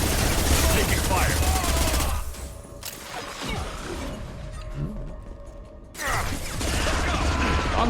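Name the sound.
gunfire in video game Mass Effect 2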